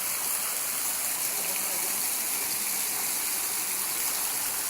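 Waterfall at the Simala Shrine pours in a steady, broad rushing roar, continuous and even from start to finish with no voices.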